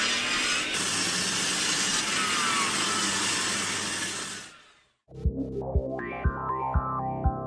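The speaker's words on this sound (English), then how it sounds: "this is my new Bailey WBS-14 bandsaw" A Bailey WBS-14 benchtop bandsaw runs with a loud, steady whirring hum for several seconds, then cuts off into near silence, followed by a few sharp knocks and clunks.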